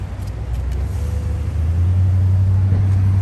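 A Dodge Hellcat rolling on fresh 305/30 ZR20 Pirelli P Zero tires gives a steady, close engine rumble that settles into a deeper, louder drone partway through, with no voices.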